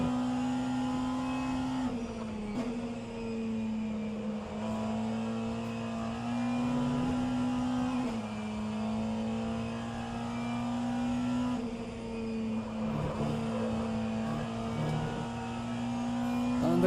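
Race car engines in rFactor2 during a virtual endurance race, with a steady loud engine drone that shifts pitch through gear changes and a BMW running close behind in the slipstream.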